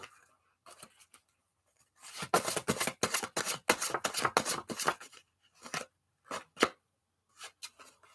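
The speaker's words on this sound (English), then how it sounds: "let's go ahead and pull some more cards." Tarot cards are drawn and handled up close, with bursts of crisp shuffling and flicking clustered in the middle and a few sharp single snaps afterward, all without talk.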